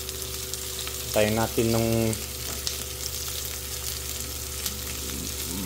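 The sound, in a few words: sautéing in a pan for sardines with egg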